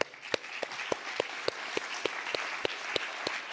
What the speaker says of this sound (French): On peut vous applaudir à nouveau.